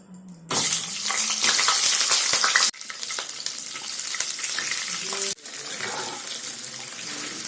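Cauliflower pieces frying in hot oil for a potato-cauliflower curry, a loud continuous sizzle broken by two sharp drops as the pieces are stirred, with no voices over it.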